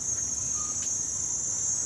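Crickets chirping in the trees beside Noppharat Thara Beach in Krabi, a steady, dense high-pitched trill that carries on unbroken with no talking.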